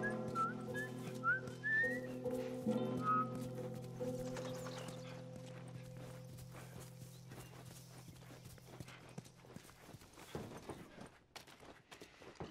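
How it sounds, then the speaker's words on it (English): A character in The Last of Us Remastered whistles a few short, bright melodic notes during the first few seconds, over a steady low musical drone and the clip-clop of horse hooves that continues afterward. "I'm whistling."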